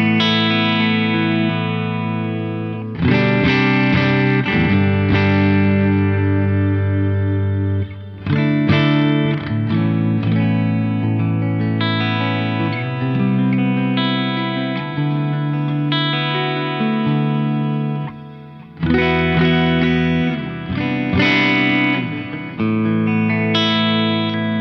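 Electric guitar through a Synergy amp with reverb and delay, played on a blended, pushed split-coil setting: sustained chords and ringing notes with echo tails, loud and continuous, with brief pauses between phrases.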